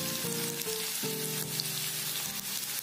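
Chutney ingredients for momos sizzle gently in a pan, a continuous close frying hiss with a few soft stirring shifts and no speech.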